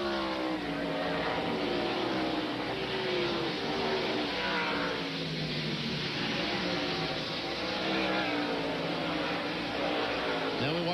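NASCAR stock cars racing at the 1999 Save Mart/Kragen 350 at Sonoma, with a steady roar of engines passing and shifting pitch throughout, loud and continuous.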